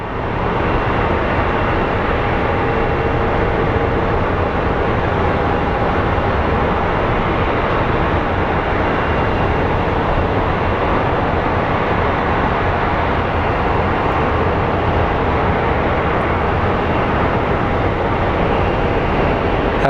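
Jet airliner powering up at Sky Harbor International Airport in Phoenix, a steady, loud broadband roar that holds level for the whole stretch, with no voices over it.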